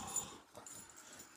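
A chocolate Labrador and a bullmastiff pant and wheeze softly at close range, with faint whimpering mixed into the breathy, continuous sound.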